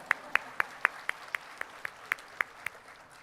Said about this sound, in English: So let's clap for everyone now.